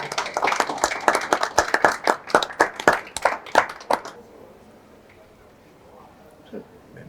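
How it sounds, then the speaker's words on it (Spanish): Welcoming applause from an audience at a bookstore event, sharp distinct claps in a quick irregular rhythm for about four seconds, then dying away into quiet room tone with a faint sound near the end. "un fuerte aplauso de bienvenida"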